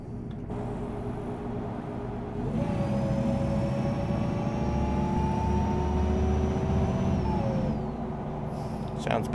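A bus engine in a bus driving video game rises from idle into a steady accelerating drone with a whining tone, holds for several seconds, then eases back down, fairly quiet throughout.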